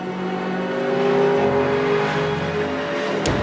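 A 10,000-pound Bigfoot monster truck engine revs hard and builds speed toward a stunt ramp, a loud sustained roar with rising pitch, ending in an abrupt cutoff.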